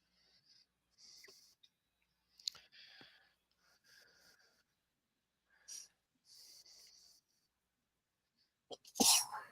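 A sneeze at a live studio session, a sudden loud burst near the end after several quieter breathy and rustling sounds in a near-silent room.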